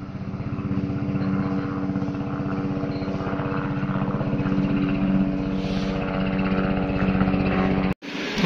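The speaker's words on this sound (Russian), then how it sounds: "Вертолет летит." A helicopter's rotor thumps in a fast, steady beat at moderate distance, droning continuously with no voices, then a sudden brief break near the end.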